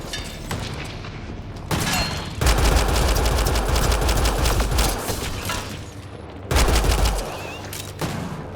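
Rapid gunfire in the game Mass Effect: Andromeda: dense bursts of loud, crackling shots in two long volleys with short pauses between, backed by low booms and steady battle noise.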